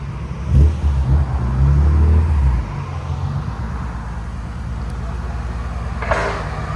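A 1997 BMW M3 with a swapped 3.2-litre engine, headers, downpipes and a Borla exhaust idles with a low, rumbling exhaust note that swells briefly and then settles as the car backs up, with outdoor background noise.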